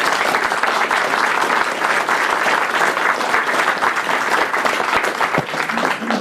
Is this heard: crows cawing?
no